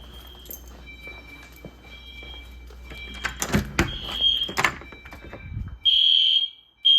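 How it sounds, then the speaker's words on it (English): Piercing electronic alarm tones from EST Genesis fire alarm horns, unsynchronized, sound intermittently with footsteps and clatter underneath, ending in a louder sustained alarm burst. "And I can hear the EST Genesis."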